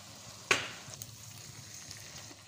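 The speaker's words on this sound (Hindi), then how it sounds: "अब हम इसमें डालेंगे मटर।" Peas tipped into a pan of frying finely diced potatoes and moongre land with one sharp clatter, followed by a soft, faint sizzle.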